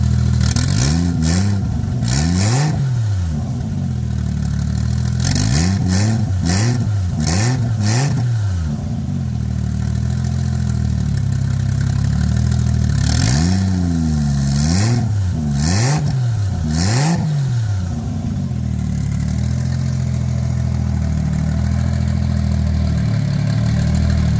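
A Toyota 1JZ engine converted from twin turbos to a single GT3582 turbo runs close by, idling steadily with several rising and falling revs in bursts.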